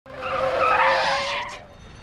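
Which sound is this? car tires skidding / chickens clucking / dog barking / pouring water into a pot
car tires skidding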